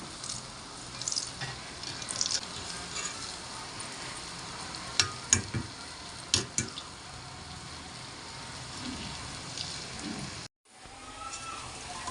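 Food frying in oil sizzles and crackles steadily close by, with sharp clicks and utensil taps, and a brief dropout near the end.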